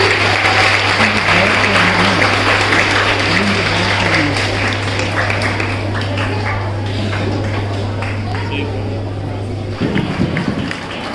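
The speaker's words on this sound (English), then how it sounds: "round of applause, children." Children applauding at a school quiz competition, a dense continuous wash of clapping from a crowd with a steady low hum underneath, ending with a brief thump.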